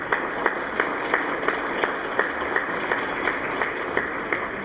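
Audience applause at an awards ceremony during a speech about addiction legislation, with a steady wash of clapping and regular sharper claps, moderately loud and continuous with no talk over it.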